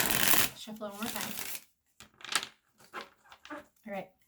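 A deck of cards riffles in a quick burst at the start, then a voice speaks in short phrases.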